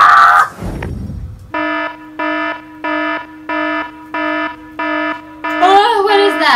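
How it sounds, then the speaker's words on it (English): An alarm goes off in the Minecraft video game: a loud, buzzy electronic beep repeats in eight even pulses, alone at first, then overlapped by a brief burst of other game sound at the end. "I set your alarm"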